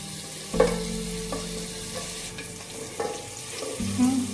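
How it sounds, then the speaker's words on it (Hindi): Garlic frying in oil in a pot, a steady close sizzle with a few sharper stirring knocks against the pot and a low background hum. "जब तक लहसुन फ्राई हो रहा है इसको थोड़ा सा हम फ्राई करेंगे।"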